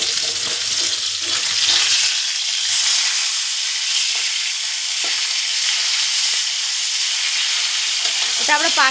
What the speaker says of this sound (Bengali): অন্য একটা কড়াতে কালো জিরে পড়লে এবার মশলা পড়বে।